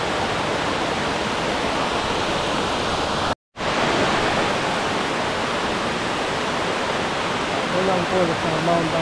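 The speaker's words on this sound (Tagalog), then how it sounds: "Unang falls ng Mount Tanawan." The first waterfall of Mount Tanawan roars as a dense, steady rush of falling water that fills the whole clip, cut by one brief dropout, loud and close with no voices heard.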